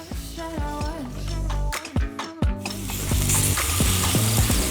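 Steady sizzling of pork frying on a Thai tabletop grill, with clattering and scraping of utensils and a busy, layered background throughout.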